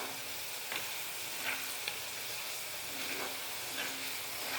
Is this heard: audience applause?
no